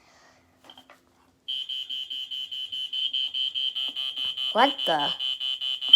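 A fireX 120-538B smoke alarm sounds on its test button: a loud, piercing, rapidly pulsing high beep that starts abruptly and repeats steadily, with a surprised voice exclaiming briefly over it.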